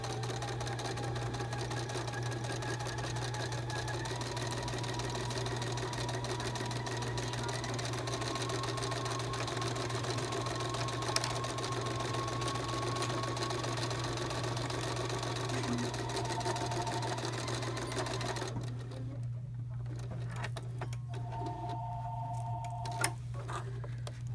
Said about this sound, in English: we're just going to sew down this other side